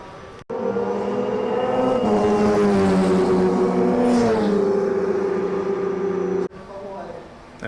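Two AI-driven F1 race cars practicing overtakes at Yas Marina Race Circuit in Abu Dhabi, a sustained high engine whine rising and falling over several seconds, moderately loud, with voices speaking around it.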